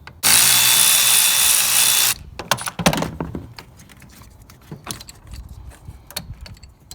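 Power tool loosening the positive cable on a car battery: a loud two-second whirring burst, followed by metallic clinks, taps and rattling of tools and the cable nearby.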